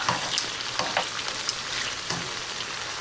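Shrimp with garlic fry in a pan with a steady, close sizzle, broken by a few louder crackling spurts and light scraping now and then.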